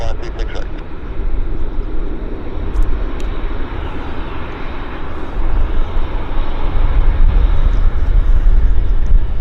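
Aircraft at Vancouver Airport YVR, a steady loud jet engine roar filling the scene throughout with broadband rumble, some brief high clicks near the start.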